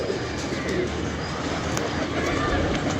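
Pigeons kept by a fancier coo in a steady low murmur, blended with broad ambient noise throughout.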